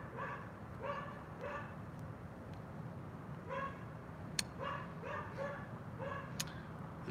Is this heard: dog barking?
yes